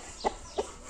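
A rooster sunning outdoors gives two short, close clucks spaced about a third of a second apart over a quiet background.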